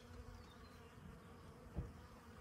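Robber bees hum faintly around apple trees near a colony, a thin continuous buzz in quiet outdoor air with a brief low thump near the end.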